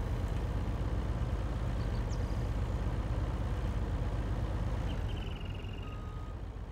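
A Kenworth truck in Farming Simulator 19 idles with a steady, loud low rumble that holds even throughout, with a couple of faint high tones drifting over it.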